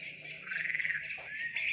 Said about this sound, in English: Bird sound for relaxing.